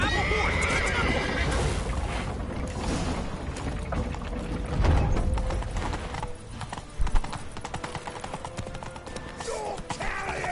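Hooves clatter rapidly and continuously alongside horse whinnies and a busy background of game effects in The Witcher 3: Wild Hunt, with no speech.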